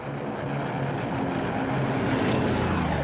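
American propeller warplanes of the Pacific War, heading toward the Japanese fleet, give a loud, continuous engine drone that holds steady and swells slightly toward the end, with no voices.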